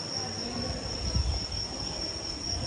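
A passenger train stands at a station platform on the Rampurhat to Balurghat route, giving a steady low rumble and idling hum with a thin high whine and faint metallic creaks, with no talk.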